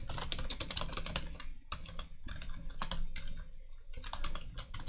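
Quick typing on a computer keyboard during a live coding session comes through as close, uneven bursts of clicking keys with brief pauses between runs, and no talk is heard.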